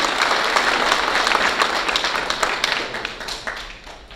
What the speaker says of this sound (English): Let's give Colonel Jefferson a round of applause